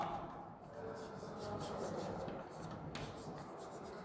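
Handwriting on a surface during a grammar lesson, a continuous soft scratching and rubbing stroke sound, faint and steady over a quiet room tone.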